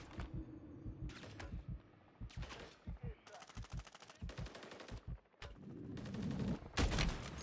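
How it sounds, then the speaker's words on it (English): Bursts of rapid automatic gunfire and single shots in MW3 Zombies, repeating in loud clusters with short pauses, while a voice talks intermittently between the volleys. "Take out that guy."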